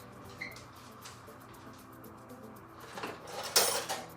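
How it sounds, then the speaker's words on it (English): A spoon scrapes and clinks against a pot of stewed chicken, with quiet stirring that grows into a louder burst of metallic clatter near the end. "I'm going to stir that in"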